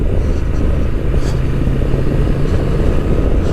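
A 2023 Honda Transalp motorcycle with a manual gearbox rides along a country road, its engine a steady, loud, low rumble blended with constant rushing wind, heard up close throughout.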